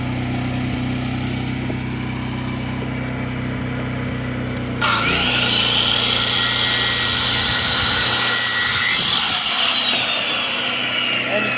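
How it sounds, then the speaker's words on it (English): A circular skill saw bites into a half-inch board for a hoop house end wall, starting with a sudden loud whining cut after a quieter lead-in and running strongly to the end. "I'm cutting it with a skill saw"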